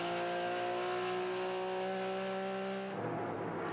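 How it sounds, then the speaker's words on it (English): A supercharged GT race car with a loud exhaust, racing at Portland International Raceway in 2001, roars steadily at high revs as a close, sustained engine note, then drops in pitch and shifts toward the end. "And this is supercharged as opposed to turbocharged, so it is essentially a normally aspirated sound."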